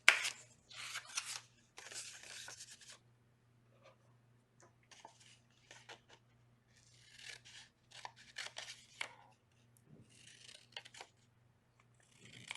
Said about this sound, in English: We're just cutting along our lines. We want to be careful with scissors,